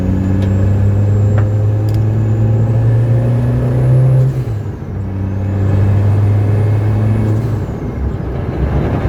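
A 330+bhp Citroen Saxo VTS Turbo on the move gives a loud, droning engine note with a thin high turbo whistle above it. The drone cuts off briefly midway, as at a gear change, then rises again.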